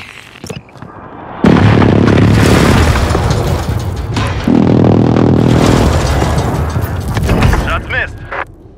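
Airstrike in Call of Duty: Modern Warfare, heavy explosions landing in two long, loud rumbling waves with crackling debris, close and powerful, with radio voices talking around them.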